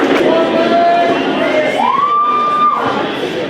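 A loud crowd at a powerlifting national championship cheers and shouts for a squatting lifter, with dense roaring voices and a sustained whistle or shrill call rising above the din.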